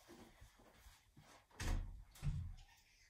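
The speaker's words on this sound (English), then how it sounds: "he's scratching on the door like crazy" A cat scratching at a door, a few rough, scraping bursts close by, the loudest two in the latter half, with no voices.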